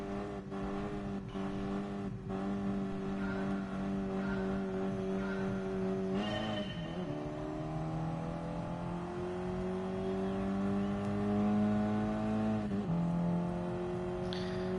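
A race car engine in the video game Gran Turismo Sport holds a strong, steady harmonic drone, climbing in pitch through several gear shifts with brief dips, loud and close throughout.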